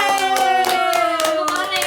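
A person claps hands in a quick uneven series to imitate neighbors cheering, with a sustained tonal voice sound running beneath the claps.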